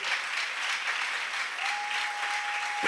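A church congregation claps hard and steadily for several seconds. The dense applause stays even throughout, and a thin sustained tone rises above it partway through.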